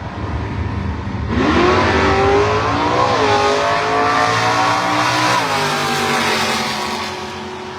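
A Plymouth Duster and a Plymouth Belvedere launch off a drag strip starting line, engines roaring loudly and rising in pitch as they accelerate hard, close and sustained.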